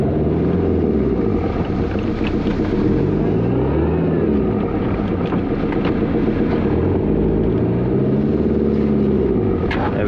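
A 4WD stuck in wet snow revs hard and repeatedly as it rocks back and forth, the engine rising and falling in pitch in loud, close surges, with wind buffeting the microphone.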